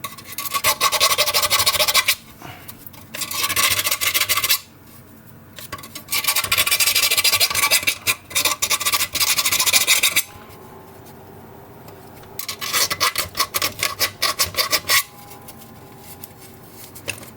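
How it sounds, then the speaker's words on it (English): A small round file rasps close up, enlarging a hole in a pedal board in bursts of rapid strokes separated by short pauses, with no talk. "I'll take my little circular file"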